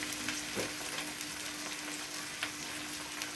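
Plum pickle simmers with a soft, steady sizzle as spice powder is stirred in, the spoon making faint scraping strokes over the continuous bubbling hiss.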